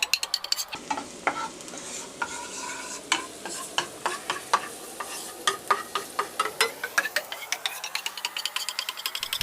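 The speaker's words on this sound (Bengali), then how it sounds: "তেলটা গরম হওয়ার সাথে সাথে রসুন কুচিটা দিয়ে দিতে হবে। এরপর নাড়তে হবে যতক্ষণ পর্যন্ত রসুনটা বাদামি কালার না হয়।" Chopped garlic sizzles in hot oil while a utensil stirs it and scrapes the pan in quick, clicking strokes that speed up toward the end, close and without talk.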